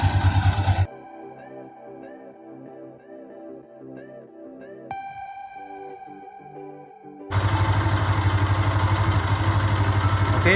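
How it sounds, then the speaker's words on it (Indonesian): Motorcycle engine idling as it warms up, a steady low mechanical hum with a tonal drone, bracketed by louder broadband noise at the start and end. "Nanti kita coba nyalain mesinnya sampai panas, kira-kira 2-3 menit."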